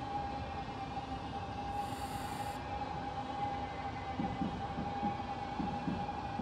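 An NS DDZ train slows under braking in Train Simulator 2015. A steady rumbling cab drone carries a constant tone, and faint squeals rise toward the end as the train decelerates, with no talk.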